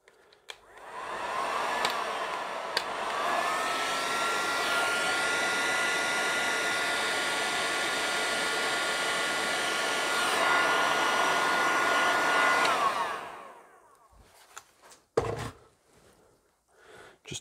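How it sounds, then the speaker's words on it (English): A heat gun shrinks heat-shrink tubing over guitar control wiring, giving a steady, close blowing roar for about eleven seconds before it cuts off, followed by a few quiet handling clicks. "And then we'll just heat shrink those all together as well."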